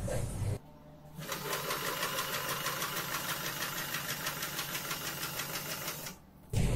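A sewing machine stitching fabric runs with a steady rapid mechanical whir for several seconds, starting abruptly and stopping near the end, close and clear.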